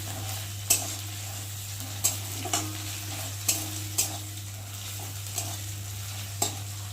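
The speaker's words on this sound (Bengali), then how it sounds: "দেখো পেঁয়াজের সাথে এভাবে ভালো করে ভেজে নেবো।" Garlic and onion fry together in a pan for a bhola fish curry, a low steady sizzle over a constant electrical hum, with sharp spatula clacks against the pan every second or so, close by and without talking.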